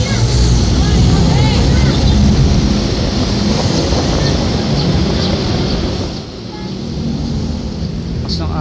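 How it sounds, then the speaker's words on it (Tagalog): Strong river current rushing near a bridge with high water, a loud continuous roar mixed with wind buffeting the microphone. "Lakas ng agos."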